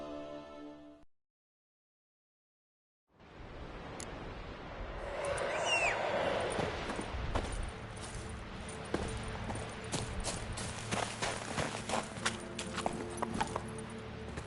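Roach the horse in The Witcher 3 gallops with rhythmic clip-clop hoofbeats after a brief silence, the pounding steps steady and close amid faint jingling tack.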